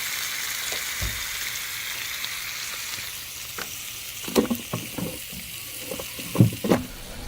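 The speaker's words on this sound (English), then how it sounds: "I've got a second round of burgers on the indoor grill" Bacon, fries and burgers sizzle on an indoor grill in a steady, close hiss, broken by a few clattering knocks and taps near the end, with no one speaking.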